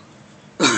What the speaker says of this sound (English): there was so much fumes in here, I almost had a cough up